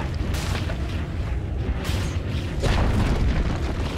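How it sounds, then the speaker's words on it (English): A Dota 2 tower collapses under attack in a crowded match, giving a loud, continuous rumbling boom with layered crashes and mechanical clatter, dense and sustained throughout. "Dire's top tower is falling."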